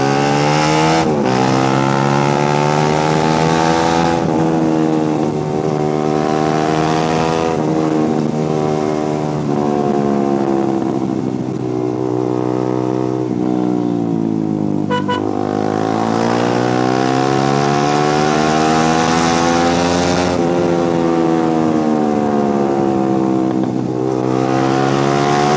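A motorcycle fitted with a racing exhaust speeds along, its loud, raspy engine note rising and falling through repeated gear changes and throttle pulls, close and continuous with no talking.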